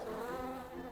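A bee buzzes steadily in the Preserve nature-building game, a soft continuous drone with a fairly constant pitch lasting the whole second, alone with no voices.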